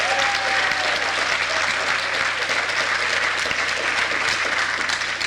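Dense, steady audience applause at a 1996 Halloween show, loud and sustained throughout with no pauses.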